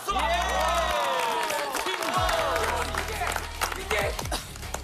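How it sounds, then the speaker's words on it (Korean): Studio audience and guests on a Korean TV variety show give welcoming applause and cheers for the returning T1 players, lively clapping mixed with shouting and overlapping talk and music stings. "다시 한번더 축하하고 환영의 박수"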